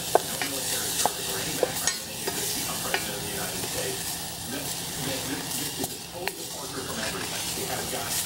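Continuous sizzle and hiss of textured vegetable protein sautéing in a pan, with occasional clicks and scrapes of stirring throughout.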